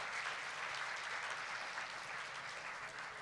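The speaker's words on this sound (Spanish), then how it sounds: "Un fuerte aplauso para él." A large audience at an international electoral justice congress in Santo Domingo applauds. The clapping is dense and continuous, distant and fairly quiet, and steady throughout with no voices over it.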